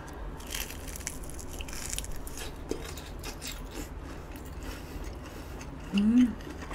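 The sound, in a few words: biting and chewing a hot dog (mukbang)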